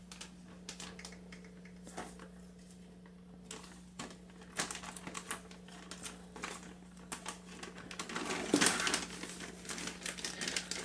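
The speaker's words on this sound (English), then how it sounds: "I'm going to place it in this plastic bag" A plastic bag crinkling as a piece of moldy wood from an air plant terrarium is placed inside it: irregular close rustles and crackles that grow busier toward the end.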